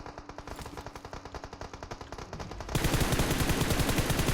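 Rapid bursts of automatic gunfire from PUBG Mobile, a quick rhythmic rattle that grows louder and denser partway through.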